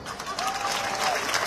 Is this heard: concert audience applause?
yes